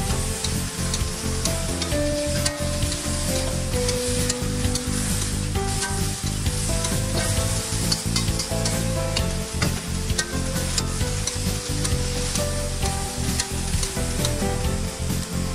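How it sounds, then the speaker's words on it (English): Mushroom, prawns and blanched lotus root stir-fried for mala xiang guo, a loud continuous sizzle with constant stirring and metallic scraping in the wok, steady throughout with no talk. "Add in the mushroom, prawns and lotus root that was blanched. Give everything a good mix."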